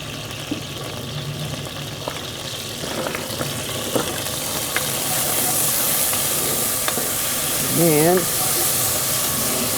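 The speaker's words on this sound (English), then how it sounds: "I'm putting 3 teaspoons in of minced garlic." Minced garlic sizzling in a pan in a camper kitchen, a steady close hiss that grows slightly louder partway through, with a few light utensil taps and a brief voice near the end.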